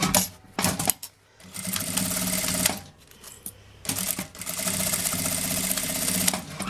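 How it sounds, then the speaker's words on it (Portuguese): A sewing machine stitches along the edge of a cloth bag handle in steady rapid runs, pausing briefly between bursts, close and clear with no talking. "Vou passar uma costura na beiradinha da alça."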